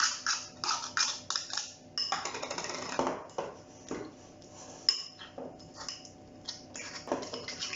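Hard peanuts being crushed by hand for a Réunion rougail, giving quick irregular clinking and cracking taps, close and fairly quiet, with no talk.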